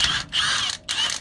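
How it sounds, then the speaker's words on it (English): A thread tap is run through a bolt hole on a Toyota pickup's front sway bar mount to clean the threads. It gives close, raspy mechanical scraping in three bursts, with short gaps between them. "we're just gonna run it all the way through to clean up the threads before we install the bar"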